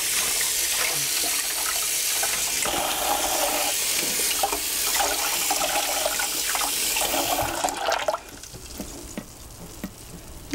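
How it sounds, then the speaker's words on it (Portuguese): Running water pours steadily and loudly as hand-dyed cotton gets its final rinse, splashing and churning for about eight seconds before the flow cuts off, leaving quieter drips and handling sounds. "essa vai ser a última lavagem, última passada de água que eu vou dar"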